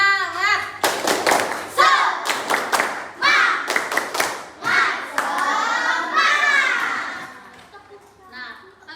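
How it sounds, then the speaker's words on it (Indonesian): Elementary schoolchildren in a classroom do a rhythmic spirit clap with their teacher, sharp grouped claps alternating with chanting children's voices, close and lively. "Ayo kita tepuk semangat."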